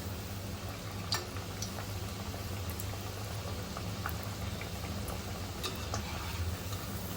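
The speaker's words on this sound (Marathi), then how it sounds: "पलटून घेऊया आपण तर तांबूस रंगामध्ये तळून घ्यायचे आहेत" Aloo vadi (colocasia leaf rolls) frying in hot oil, a steady low bubbling sizzle with scattered faint pops and ticks, continuous and fairly quiet with no talk.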